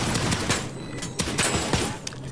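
Video game gunfire from enemies in Deadzone: Rogue, dense overlapping shots and bursts crackling continuously over a busy game soundscape.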